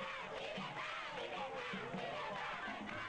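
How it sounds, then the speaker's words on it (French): A frenzied crowd in northern Mali cheers and yells to welcome the Malian head of state, a dense, continuous roar of many voices, steady and fairly loud throughout. "Le chef de l'État malien est accueilli en rockstar par une foule en délire"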